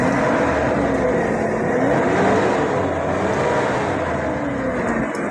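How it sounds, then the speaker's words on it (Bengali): A long-body, low-floor car with a VVTI engine revs as the accelerator is pressed, giving a loud, close, steady engine drone whose pitch rises and falls gently, with no talking over it. "আমি একটু অ্যাক্সেলেটার ধরতেছি"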